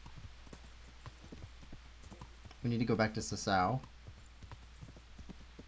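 A horse walks with steady hoof clops in the game Kingdom Come: Deliverance, soft and rhythmic throughout, with someone talking briefly over it in the middle.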